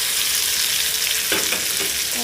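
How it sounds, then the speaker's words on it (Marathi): A ghee tempering with cumin, garlic, curry leaves and a little red chilli powder sizzles hard in a kadhai, a loud, close, continuous crackle with a few low stirring thumps near the end. "मस्त अशी चिरचिरी फोडणी"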